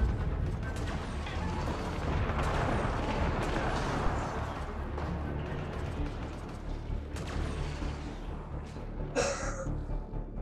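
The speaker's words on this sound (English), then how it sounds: "Enemy fire, careful." Heavy enemy gunfire and explosive bursts in the sci-fi shooter Mass Effect Andromeda form a dense, continuous rumbling barrage with rapid crackling shots, loud and close, with a sharp burst near the end and no talking.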